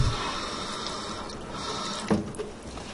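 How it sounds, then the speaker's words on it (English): Water runs into a container of tomato seeds, a steady close tap-like stream with a brief splashing bump partway through, quiet with no talk. "I run some more water back into this"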